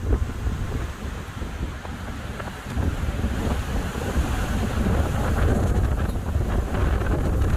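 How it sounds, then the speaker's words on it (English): Strong Hurricane Ian wind gusts in Southwest Florida roar and buffet the microphone continuously, building louder in the second half with a surf-like rush and no talk. "Very strong gusts."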